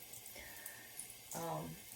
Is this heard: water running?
yes